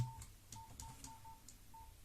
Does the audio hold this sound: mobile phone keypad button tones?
yes